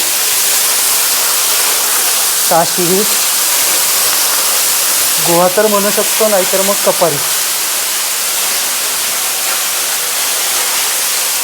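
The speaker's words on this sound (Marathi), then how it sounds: "बघू शकता तुम्ही सुंदर असे वॉटरफॉल इथं आहे" Constant broadband roar of a waterfall near the Jaibai Mata Devi temple during rain, filling the background evenly. Someone speaks briefly over it twice.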